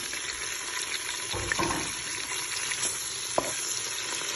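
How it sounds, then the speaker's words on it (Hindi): Onions fry in a pan with tomatoes and green chillies, a steady dense sizzle with occasional soft stirring scrapes and a couple of small clicks, close and unbroken throughout. "प्याज को 2 से 3 मिनट के लिए आपने भूनना है अच्छी तरीके से। साथ ही हमने इसमें टमाटर और हरी मिर्चें जो हमने कट की थी ये ऐड करनी है।"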